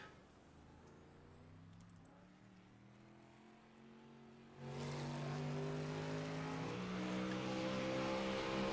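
Race car heading onto the Williams Grove speedway for qualifying, an engine whine rising in pitch, first distant and quiet, then jumping louder and closer as the car accelerates past and holds a high, steady drone.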